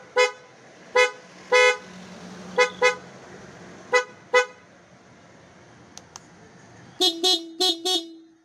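Several short motorcycle horn toots from a stock horn at a steady pace, followed by a quick cluster of louder, brighter honks from a PIAA horn near the end.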